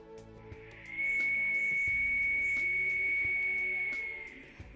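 A single pre-Columbian Andean clay whistle from Ecuador sounds a steady, piercing high tone for about three seconds, clear and close.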